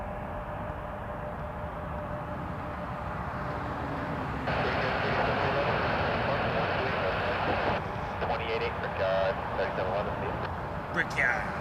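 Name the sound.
Jazz RJ 900 regional jet aircraft at Toronto Pearson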